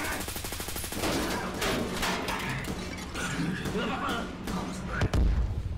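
Gunfire from Escape From Tarkov: rapid bursts of automatic weapon shots crack and thud through a tense firefight, dense and loud, with scattered impacts and a heavy thump near the end.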